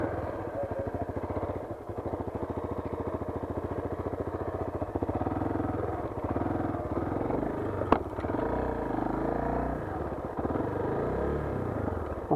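A motorbike engine runs steadily at a railway crossing in Sri Lanka, a close, continuous rumble with a loud clack near the middle and no talking.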